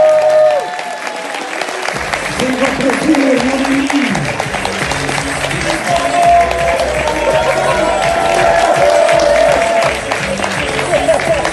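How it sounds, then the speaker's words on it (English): An audience at a high school graduation ceremony applauds a speaker with loud, sustained clapping from many hands. Scattered voices and cheers rise over the applause throughout. "ladies and gentlemen, let's give him a big round of applause"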